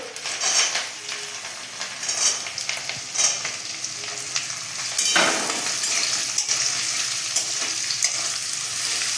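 Carrots frying in a pan after a tempering of spices, tossed and stirred: a loud steady sizzle with spatula scrapes and metallic clinks, growing louder and denser partway through, close and without voices.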